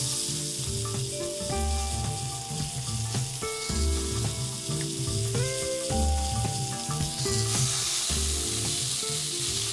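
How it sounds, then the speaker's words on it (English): Stuffed pork chops filled with sun-dried tomatoes and spinach sizzle steadily in a hot pan, a continuous crackling fry heard under background music. "I'm gonna cook the pork chops about 4 to 5 minutes on each side so they're golden brown and cook through."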